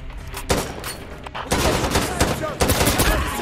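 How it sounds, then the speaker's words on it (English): Minigun fire support in the shooter game Insurgency Sandstorm, dense sustained bursts of rapid gunfire and distant impacts, loud and continuous with brief dips, mixed with indistinct voices. "Minigun support at this target is over."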